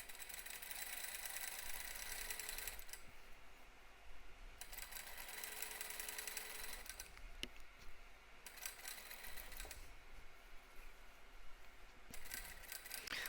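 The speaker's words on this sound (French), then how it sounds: "là je viens piquer à 1 mm du bord, tout le long" A sewing machine stitching 1 mm from the edge of a dress seam, running in several steady bursts of rapid mechanical chatter separated by short pauses, quiet and close with no talking.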